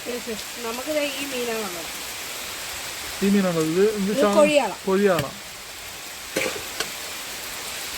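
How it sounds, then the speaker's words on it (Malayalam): Heavy rain pours down at a fish shop in a Kerala village as a constant, close hiss under a person talking, with a few sharper knocks near the end. "മഴ ഭയങ്കര പെയ്യുന്നുണ്ട്"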